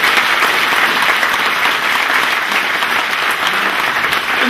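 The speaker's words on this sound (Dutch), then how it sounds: "daar krijg je nu een applaus voor" A large audience gives loud, steady applause, a dense wash of clapping that holds evenly for several seconds with no talk over it.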